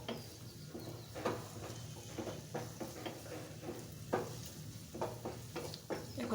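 Eggplant frying in a pan until soft, with a low steady sizzle under repeated clinks and scrapes of a spatula stirring at irregular intervals.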